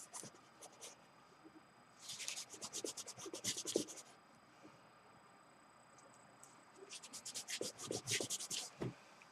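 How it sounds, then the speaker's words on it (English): Material is rubbed out on an art journal page in two bursts of quick, close, soft scratchy strokes separated by a quieter pause. "So I'm just going to rub a little bit of this out."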